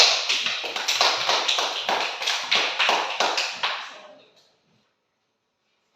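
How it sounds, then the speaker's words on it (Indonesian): Schoolchildren clap their hands together during a classroom physical education lesson, a run of sharp, fairly loud, rhythmic claps that taper off and then stop, leaving near silence. "Tepuk tangan dulu."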